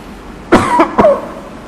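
A person coughing at a religious lesson: a few sharp, close coughs in quick succession, loud against a quiet room.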